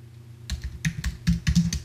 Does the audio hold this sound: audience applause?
no